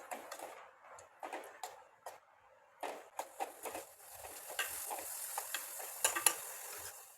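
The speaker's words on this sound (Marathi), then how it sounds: "आता आपल्याला हा कांदा चांगला गोल्डन ब्राऊन होईपर्यंत परतून घ्यायचा आहे" Chopped onion sautéed in a pan until golden brown for a Konkani ivy gourd (tondli) stir-fry: intermittent spatula scrapes and stirs over a faint, low sizzle, close and fairly quiet, no voices.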